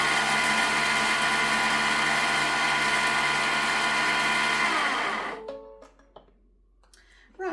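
A food processor chops rosemary and garlic for pizza bianca, a loud steady motor whir with blades spinning, then it switches off and winds down, leaving near silence and a faint clink.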